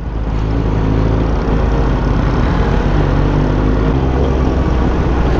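Mopeds roll past nearby, producing a loud, steady engine rumble that holds without a break and deepens slightly toward the end.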